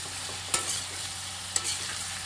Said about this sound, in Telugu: వేసుకొని హై ఫ్లేమ్ మీద ఒక 2 మినిట్స్ అట్లాగా వేయించుకుందాం